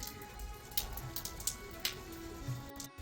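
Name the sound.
rain falling in village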